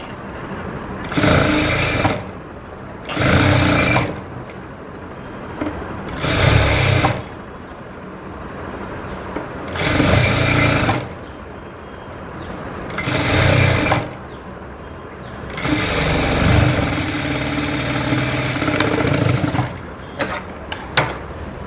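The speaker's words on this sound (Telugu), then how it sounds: "ఇప్పుడు దీన్ని ఇలా ఫోల్డ్ చేసి కుట్టేసేయండి" A sewing machine stitches folded fabric piping in several loud bursts of rapid mechanical whirring, separated by short pauses, with a long continuous run toward the end.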